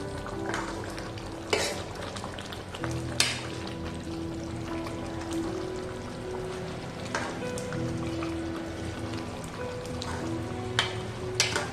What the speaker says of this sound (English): And also I'll be adding fresh mint which I have chopped fine. We'll give this a mix.